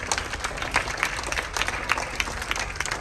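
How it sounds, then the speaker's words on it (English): A school audience claps for a young girl poet at a live poetry-sharing event, a brisk scattered round of applause from a small nearby crowd, with no talk over it. "Give her a big clap, everybody."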